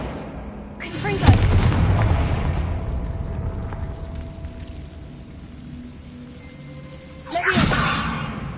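Confringo blasting spell in the Hogwarts Legacy video game, loud booming explosions, one near the start with a long rumbling decay and another burst near the end, with faint tones between.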